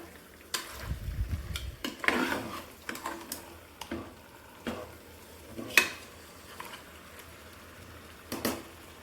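Chicken stirred and fried in a pan for Udumalaipet-style biryani, with intermittent spoon scrapes and clanks over a quiet low sizzle, close and fairly soft.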